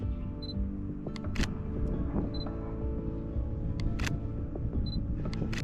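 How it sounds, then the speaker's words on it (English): A Sony camera's shutter clicks a few times in short, sharp bursts while shooting a gondola passing, set against a steady outdoor background hum, with no talking. "once the gondola appeared, I took the shot"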